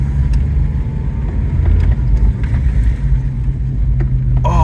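A 1982 Saab 900 Turbo, a barn find, drives along with a steady, rumbling engine drone and a faint turbo whistle rising over it, loud and close throughout.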